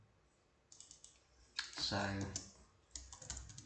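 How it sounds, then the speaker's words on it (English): Quick clicks on a computer keyboard come in close, uneven bursts of typing, with a short spoken word near the start. "why am I completely incapable of typing today?"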